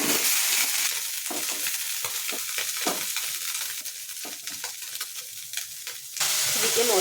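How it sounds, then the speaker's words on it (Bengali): Small fish lightly fry in hot oil in a wok, giving a steady bright sizzle with occasional stirring bursts. The sizzle is close and continuous, with no talking. "কড়ার মধ্যে পরিমাণ মতো তেল দেবো। এবার মাছগুলো হালকা ভেজে নেব।"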